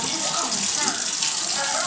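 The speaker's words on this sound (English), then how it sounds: "you just simply pour it out" Hot broth poured off a pan of cooked chicken gizzards makes a continuous close splashing gush that runs steadily for about two seconds.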